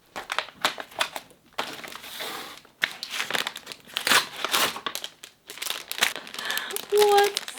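Parcels from the post office being opened, with loud close crinkling and crushing of paper and plastic packaging in uneven bursts, and a voice talking in between.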